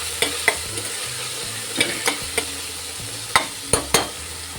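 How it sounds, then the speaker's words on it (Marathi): Green chillies and chopped tomato stirred in a hot pan, soft frying sizzle beneath a series of sharp spatula scrapes and taps against the metal, close and without talk. "हे बघा व्यवस्थित मिक्स करून घेते"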